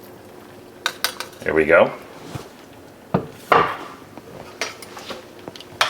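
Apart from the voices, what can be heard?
spooning pesto into a bowl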